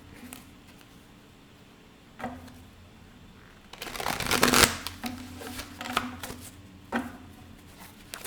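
Tarot cards riffled and shuffled in a few short, crisp bursts, with one louder flurry in the middle, fairly close and quiet, alone without talk.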